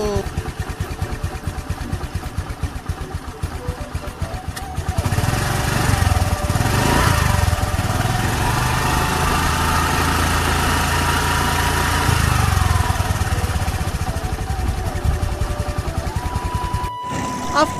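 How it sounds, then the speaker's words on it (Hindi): A big tractor engine runs in a road traffic jam with other vehicles around, a steady loud mechanical drone starting after a few seconds and holding until it cuts off near the end, with people shouting excitedly over it. "अब तो जाएगा इतना बड़ा ट्रैक्टर"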